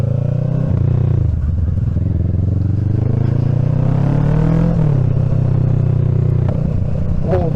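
A motorcycle fitted with a Scorpion slip-on end can, baffle removed, idles and revs with a loud, steady low rumble. The engine swells and settles, and a small crackle comes near the end.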